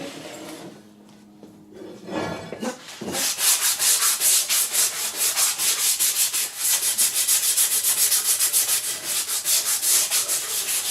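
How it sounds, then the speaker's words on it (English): Sharp, razor-like burred metal edges on delta 3D printer parts are deburred with quick back-and-forth scraping strokes, loud and close, starting after a few seconds of quieter handling noise. "Just trying to take some of these burrs off because they're like absolute razor blade, the edges on these."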